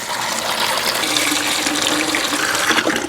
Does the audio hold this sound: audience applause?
no